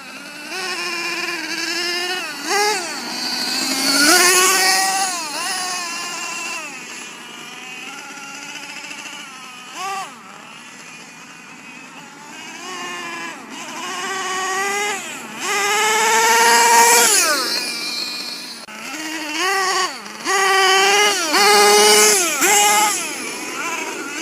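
A small gas engine on a Losi LST XXL 2 1/8-scale RC monster truck, being broken in, buzzes and revs repeatedly, pitch climbing and dropping with each throttle blip, loud and close throughout.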